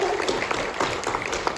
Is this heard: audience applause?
yes